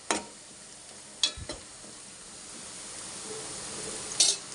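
Green chillies fry in a pan of oil for a fish curry, giving a soft steady sizzle with a few sharp clinks near the start and end, fairly quiet and close, with no talk.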